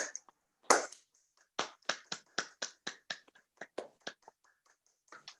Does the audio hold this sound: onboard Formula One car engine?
no